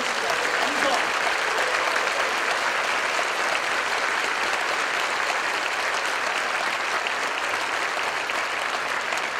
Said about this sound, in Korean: 우리 귀한 12분을 향해서 뜨거운 감사의 박수를 부탁드리겠습니다.